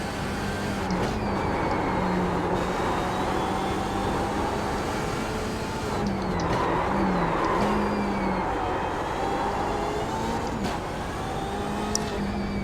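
A BMW M8 GTE race car engine in the iRacing sim drones steadily and loudly throughout, with shifting pitch as it accelerates and brief dips between gears, no talk over it.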